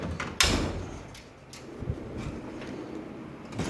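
A toolbox drawer holding air tools slides open with a sharp clack near the start, followed by a low rolling rumble and faint rattles in a quiet garage-like space.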